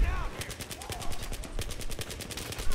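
Sustained automatic gunfire in Battlefield 3, a rapid, even rhythm of shots close by and continuous, with a voice talking underneath.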